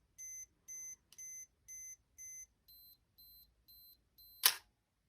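Olympus OM-4 camera self-timer beeping, a clear run of evenly spaced electronic beeps that shift to a higher, shorter pattern, ending in a sharp shutter snap, close and alone in a quiet room.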